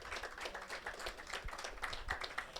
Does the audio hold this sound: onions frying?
no